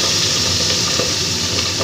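Pabda fish frying in hot oil, a loud, dense, close sizzle with faint spatters breaking through a steady hiss.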